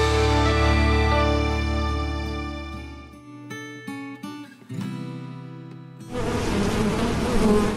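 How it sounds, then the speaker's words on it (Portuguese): A dense swarm of honey bees at an apiary buzzes steadily and loudly, closing a stretch where sustained tones fade in and out. "No meio desse zumbido, uma coisa é certa, a quantidade de abelhas é surpreendente."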